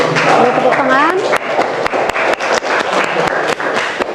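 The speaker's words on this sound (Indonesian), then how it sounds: "Boleh tepuk tangan." A high school sociology class applauds after a group presentation with scattered, uneven claps and thumps close by. Students talk and call out loudly over and between the claps.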